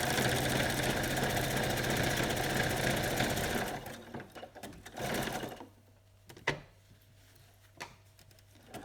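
A sewing machine runs a steady, rapid straight stitch through fabric for several seconds, then stops, leaving a few faint clicks and handling noises.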